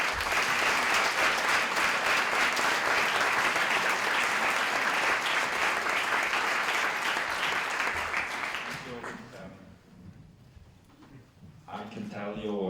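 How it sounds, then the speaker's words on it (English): Full audience applause after a panel talk on globalisation, loud and continuous for several seconds before fading out, with a voice beginning to speak at the end. "I can tell you that your applause was very nice"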